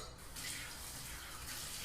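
Running water from a tap splashes steadily as a cocktail jigger is rinsed out at a home kitchen sink, a continuous close-up gush with no talk.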